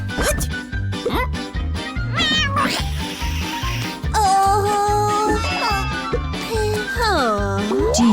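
Cartoon kitten meowing in an animated children's farm-animal show, several rising and falling high-pitched meows over a steady, loud musical backing.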